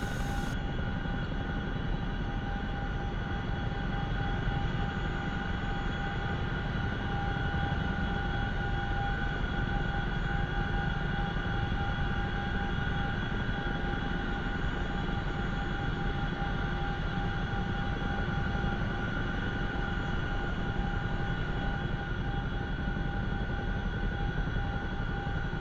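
A steady, droning engine roar with a constant tonal whine, matching a C-130 transport aircraft in the DCS flight simulator, loud and unbroken for the whole stretch with no voices.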